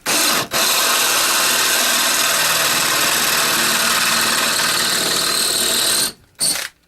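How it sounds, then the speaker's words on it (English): A steady, continuous whirring of a power drill boring a 3/8-inch hole in a knife handle for about six seconds, with a brief pause near the start and sputtering cutoffs at the end. "We only have one 3/8 hole to drill."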